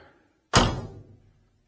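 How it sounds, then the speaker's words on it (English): A single solid car door slam on a 1970 Chevelle Malibu, close and sharp, with a short low thud that dies away quickly in an otherwise quiet space. "Again, they just snap shut nice and tight."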